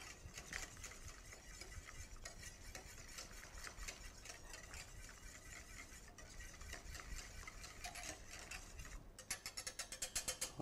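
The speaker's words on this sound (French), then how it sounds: "Donc je vais pouvoir bien mélanger le tout." A strawberry and tarragon granita mixture is stirred in a steady, continuous scraping and swishing, quiet and close, with no talk over it.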